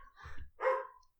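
A couple of short dog barks ring out at close range, a low gruff one and then a louder, sharper one, with a brief gap between them.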